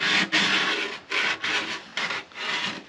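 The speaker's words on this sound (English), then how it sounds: "I am going to take the sandpaper and I'm going to bevel it in on the inside just a little." Sandpaper rubbing back and forth to bevel the inside edge of a soundhole cut in a Martin D-35 acoustic guitar top, four steady rasping strokes with short pauses between, close and clear with no talking.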